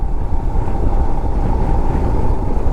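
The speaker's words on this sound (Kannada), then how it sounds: "ಅದು ಬರೀ ಗಾಳಿ ಅಂತೂ ಹಿಂಗದ ಭಾಳ ಕೆಟ್ಟ ಗಾಳಿ ಬಿಟ್ಟದ" Loud, constant wind roars and buffets against the microphone on a road trip in Ladakh, a dense rumbling gust with no break.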